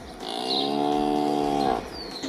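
A cow moos indoors, a single long, loud, drawn-out low call that swells and then trails off, with room noise around it and no voices.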